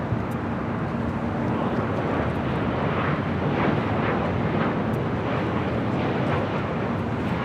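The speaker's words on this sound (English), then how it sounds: "1960 coming in from San Francisco on the 737-900ER" A United Airlines Boeing 737-900ER arriving from San Francisco gives a broad, steady jet roar mixed with wind rumble, loud and continuous with no clear rise or fade.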